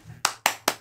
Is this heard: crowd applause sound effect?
yes